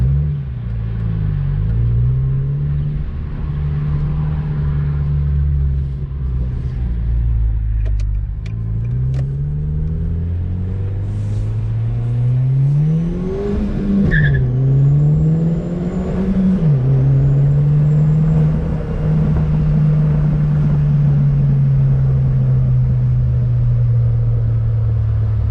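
Nissan Juke Nismo RS turbo engine revving with the blow-off valve fully closed and the recirculation valve open: a loud, steady engine drone that rises and falls through several revs, with a brief high whistle partway through.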